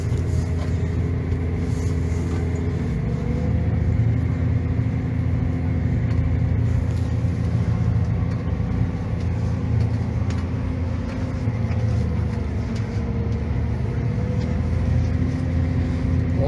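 A Massey Ferguson 8S.205 tractor pulls a plough through a field at about 10 to 11 km/h, its engine a loud, steady low drone that continues unbroken throughout.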